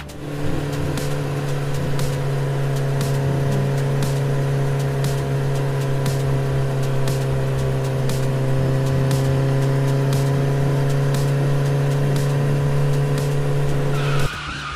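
A cartoon car in an animated drama roars away under steady high engine drone with skidding tire noise throughout, loud and continuous, ending abruptly near the end.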